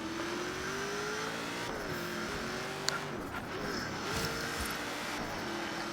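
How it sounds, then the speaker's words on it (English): Engine of a Crown Victoria race car in Forza Horizon 3, revving steadily through a drift on a track with rising and falling pitch and faint tire squeal, continuous and close with no talking. "Just to get a good look at that race car Crown Vic, ripping it up in the track."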